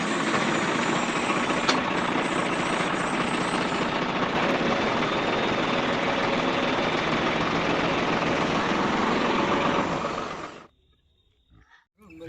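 A DIY toy crane tractor machine digging a well runs with a loud, steady motor whine and rattle for about ten seconds, then cuts off abruptly, leaving near silence with a few small knocks.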